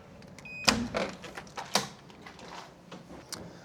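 A hotel flat's front door is opened in Budapest, giving a couple of sharp clicks and knocks from the latch and handle, then softer shuffling, fairly quiet against room noise.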